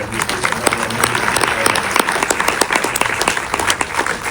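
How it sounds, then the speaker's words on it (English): A film Q&A audience applauds for the lead actress, dense sustained clapping from a full house filling the whole stretch at steady loudness. "let's have a round of applause for Saoirse."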